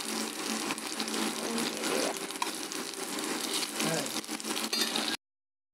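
Constant hissing sizzle of Malabar spinach leaf fritters frying in hot oil, steady and fairly loud throughout, then cutting off abruptly.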